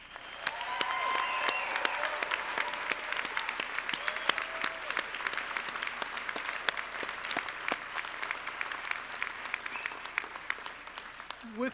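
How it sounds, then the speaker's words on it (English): An audience at a university honors ceremony applauds steadily for about twelve seconds, a dense patter of clapping from a large crowd that swells early and then holds at a moderate level. "One more round of applause."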